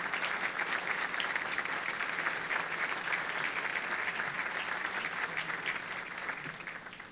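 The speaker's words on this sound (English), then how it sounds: "a round of applause for all their hard work" Steady, even applause from an audience honoring Illinois State Toll Highway Authority senior management, a continuous wash of many hands clapping at moderate distance, easing slightly near the end.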